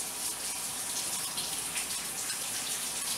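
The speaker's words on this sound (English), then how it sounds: "Rinse my onion off." Tap water runs steadily over an onion under a kitchen faucet, a continuous close splashing rush that lasts throughout.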